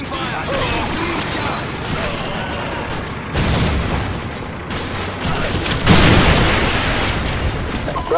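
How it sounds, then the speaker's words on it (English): Call of Duty combat with dense, loud gunfire and C4 explosions, a continuous roar of shots and blasts with heavier bursts partway through, voices shouting over it. "Give me some covering fire!"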